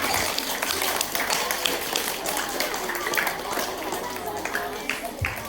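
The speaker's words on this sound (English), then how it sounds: "Great big round of applause for these people." Applause at a school assembly, many children clapping together in a hall, a busy, steady patter of hand claps lasting several seconds with some voices audible among it.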